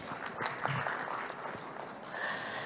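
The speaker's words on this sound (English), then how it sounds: "Give applause for him." Faint, scattered applause from a conference audience at a hydrogen business event, light clapping that rises slightly near the end.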